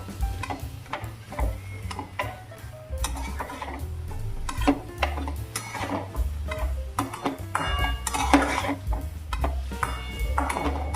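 Mushrooms being stirred into masala in a pan over low flame, with steady scraping and clinking of a spoon against the pan, light sizzling underneath and no talking.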